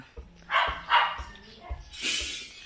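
A dog barks a few times around a house under construction in the Philippines, with short sharp yips rising above nearby voices and background site noise.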